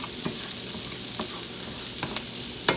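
Vegetables cook in rendered bacon fat, producing a soft, even sizzle close by, with a few light clicks from stirring and a sharper tap near the end. No talking.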